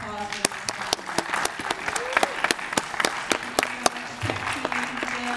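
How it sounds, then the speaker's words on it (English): An audience at a film festival awards ceremony gives a round of applause: steady, fairly loud crowd clapping with sharp individual claps standing out, while voices talk and call out over it. "Let's give it another round of applause."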